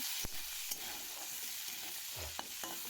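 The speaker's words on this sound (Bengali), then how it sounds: "লবণ আর হলুদটা দিয়ে চিংড়ি মাছগুলো আমি ভাজি করে নেব।" Shrimp seasoned with salt and turmeric frying in a pan for a village-style dish, giving a steady soft sizzle with a few brief stirring scrapes and clinks, close and moderately quiet, with no talking.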